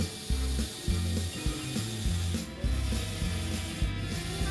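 A Lego rack and pinion elevator driven by an electric motor runs with a close, rhythmic ratcheting grind and clicking of gears, pulsing in short repeated bursts.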